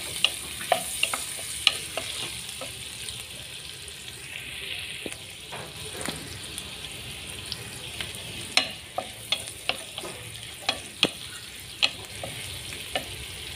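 Onion frying in hot oil in a pan: a steady, soft sizzle runs throughout, with repeated sharp clicks and scrapes of stirring growing more frequent toward the end.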